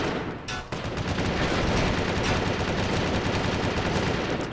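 Rapid machine-gun fire from an airship battle in the sky-adventure game Windforge, a loud, dense, continuous stream of shots that runs without pause through the whole stretch.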